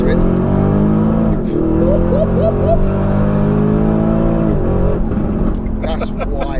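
A Porsche Cayenne Turbo GT pulls hard in second gear, its engine note rising loud and close, dipping briefly at a shift, with people talking over the roar.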